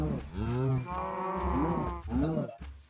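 Cows moo in Minecraft, two long, low, drawn-out lowing calls one after another across three seconds, loud and close with no talking over them.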